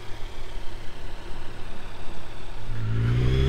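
A 2019 Kawasaki Z900 motorcycle engine pulls steadily while riding, a continuous close drone that climbs in pitch toward the end as the bike accelerates, with no talk.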